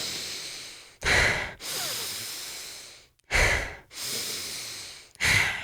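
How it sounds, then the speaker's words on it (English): Cyclic hyperventilation breathwork similar to the Wim Hof method, with deep, forceful breaths heard close up: sharp inhales alternating with longer, softer exhales in a steady repeating rhythm. "it's where the cyclic hyperventilation is more like this"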